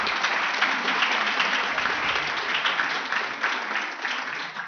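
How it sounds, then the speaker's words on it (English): Sustained audience applause at an award ceremony for committee members, steady even clapping from a large crowd throughout, moderately loud and with no talk over it. "You can also clap for them."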